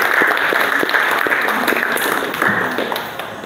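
A classroom group claps together during a teacher-training practice lesson, a short burst of fairly close hand applause with a few sharp distinct claps that slowly fades over a few seconds.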